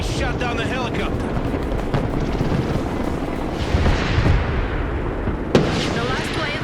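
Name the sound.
helicopter in Broken Arrow video game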